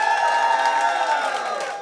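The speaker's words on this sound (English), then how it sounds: "If you want Jack to win, please clap and cheer now." A studio audience at a gong-show style talent contest claps and cheers loudly in a sustained burst, a dense crowd roar with whoops that fades slightly toward the end.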